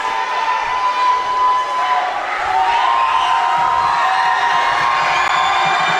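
Crowd noise fills a high school basketball gym during a boys game between Carbon and North Sanpete in Utah, a loud, sustained wash of cheering, whoops and shouting voices from the stands that never lets up.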